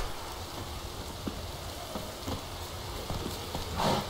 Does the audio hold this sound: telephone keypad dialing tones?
no